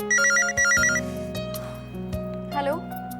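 A telephone rings after a number is dialled, repeated electronic ring bursts in quick pulses, followed by some clicks and a faint chirp, with voices talking underneath.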